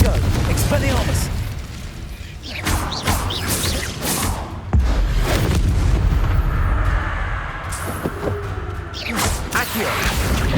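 Fire and blasting spells cast in the Hogwarts Legacy action game, giving repeated booming, whooshing bursts and crackles over a busy backdrop of combat effects.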